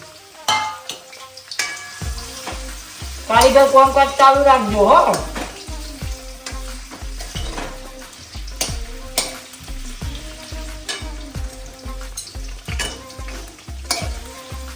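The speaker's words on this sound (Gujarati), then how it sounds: "તો આપણે હવે પનીર ફ્રાય કરી દઈશું એટલે કે તળી દઈશું" Paneer fries in hot oil in a pan on a gas stove, a continuous sizzle under rhythmic tapping and clattering of utensils, with a short stretch of speech in the middle.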